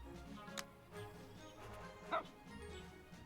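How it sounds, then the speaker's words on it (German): A dog in the video game Cat Quest 2 barks repeatedly at the player character. Two short, sharp yips stand out against quiet game background sound, the second one louder and clearer. "er bellt mich dauernd an"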